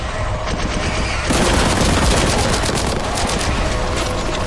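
Loud, dense gunfire in the game Warhammer 40,000: Boltgun, a continuous rapid barrage of close shots that intensifies after a brief lighter opening and keeps pounding without pause.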